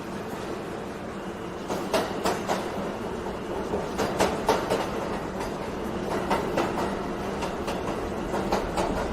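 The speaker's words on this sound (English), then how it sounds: "This is a Brooklyn-bound 2 express train." A Brooklyn-bound New York City subway 2 express train running, a steady loud rumble inside the car with rhythmic clickety-clack wheel beats over rail joints, no voices.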